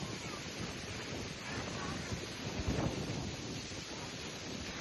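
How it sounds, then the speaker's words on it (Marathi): Steady wind rushes and buffets across an open farm at Devgad, a continuous broadband roar with a slightly stronger gust midway, close and fairly loud. "मस्त वारा चाललेला आहे,"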